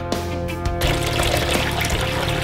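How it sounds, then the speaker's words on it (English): Rinse water draining out of an Ezywash portable washing machine, a brief quiet pause and then a steady gushing pour of water lasting to the end. "Drain the rinse water,"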